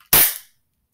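A single sharp, snappy gunshot in an online shooter game, loud and brief with a quick decay, alone in silence.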